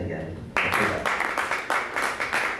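An audience at a film festival event breaks into applause, with clapping starting suddenly and continuing in loose rhythmic bursts, fairly close and full, with no talk over it.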